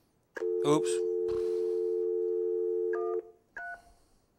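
Retro telephone on a VOIP line: steady dial tone for about three seconds, then short stepped tone bursts of dialing, with a brief spoken word near the start.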